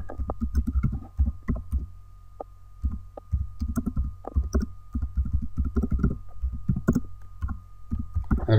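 Computer keyboard typing, irregular bursts of close, crisp key clicks with short pauses between runs, over a faint steady hum.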